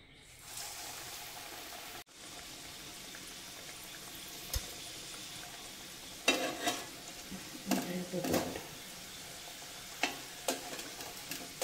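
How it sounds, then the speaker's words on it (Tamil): A paneer roll stuffed with mozzarella deep-fries in oil, a low steady bubbling sizzle that grows busier with crackling spurts and a few sharp clinks in the latter half, heard close without voices. "இந்த எண்ணெயில் போட்டு பொரிச்சு எடுக்க வேண்டியதுதான்."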